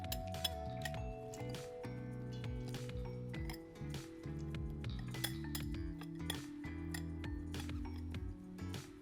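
A whisk clinking against a bowl while mixing grated butter into flour, quick bright metallic taps and clatters in an irregular rhythm, close and clear, with no talking.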